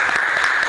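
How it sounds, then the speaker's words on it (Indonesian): Classroom applause from students during an Islamic religious education lesson, a dense burst of clapping that fills the short moment at steady loudness. "Baik, tepuk tangan."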